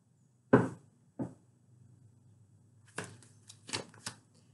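A deck of tarot cards is shuffled in a quiet room: a single crisp riffle, a shorter second one, then a run of quick flicks and riffles, with no talk.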